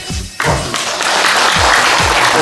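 Enthusiastic applause from a lecture audience, dense, loud clapping from a crowd filling the room, steady throughout with no talking.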